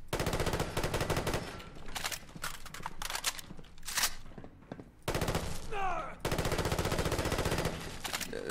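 Rapid automatic fire from a FAMAS rifle in a modded Fallout 4 game, loud close bursts of gunshots with short pauses between them and a brief whistling sweep in the middle.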